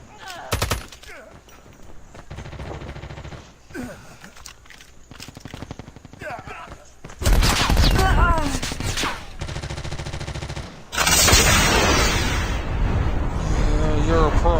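Bursts of gunfire from an online battle-royale shooter game crackle through the clip, dense volleys alternating with quieter stretches while players talk over the action.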